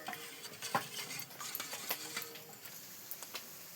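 A spoon stirs fish curry masala loosened with water in a pot, making quiet, irregular scraping and small metallic clinks against the pot's sides with no voices.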